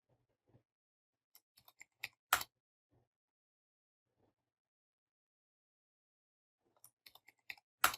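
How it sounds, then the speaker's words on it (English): Scattered keystrokes on a computer keyboard as a password is entered, a few sparse clicks followed by a louder quick burst, then a pause and another short cluster of taps near the end, quiet otherwise. "So we have to type password here."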